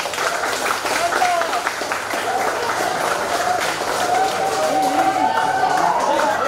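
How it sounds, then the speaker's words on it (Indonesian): Audience applause at a Cyber Speed Indonesia chapter anniversary gathering, a steady dense patter of clapping across the whole stretch, fairly loud and close, with crowd voices mixed in. "Tepuk tangan dulu."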